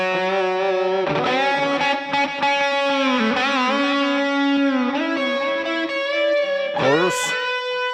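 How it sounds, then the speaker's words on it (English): A sustained, distorted electric guitar plays held notes and slides, with echoing repeats and a washy reverb tail, loud and continuous. "let's use the delay and reverb."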